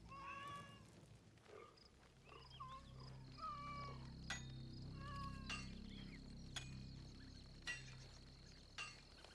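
A cat in Assassin's Creed Shadows gives several short meows in quick succession, followed by soft, sparse clinking sounds over a low, quiet background.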